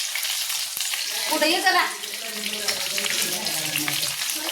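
Masala sizzles and crackles in a hot pan while cooking bombil and brinjal, a constant bright hiss running under a woman's nearby speech.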